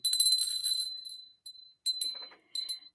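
A small crystal bell rings close by in a quiet room, shaken in three short bursts of bright, high, shimmering chimes with brief silences between them.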